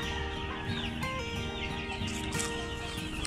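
Chickens in a yard with a white rooster, a steady chorus of clucking and clucks overlapping at moderate distance among background farm noise, with no talk.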